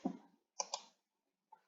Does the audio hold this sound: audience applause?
no